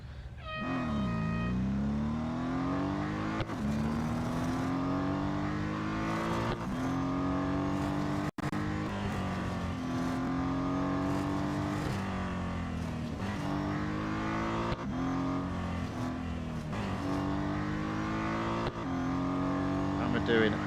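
Race car engine in the Real Racing 3 video game during an autocross run at the national Circuit of the Americas, revving and shifting through repeated rising pitch sweeps, loud and continuous for the whole stretch.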